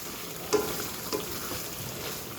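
Beef curry with peeled jackfruit seeds sizzles steadily in a pot, with two brief spoon knocks against the metal as it is stirred, close and without talk.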